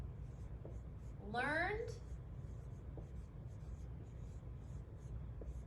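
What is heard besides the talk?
writing with a pencil or pen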